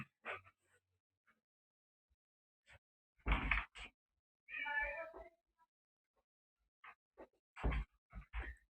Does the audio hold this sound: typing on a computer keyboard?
no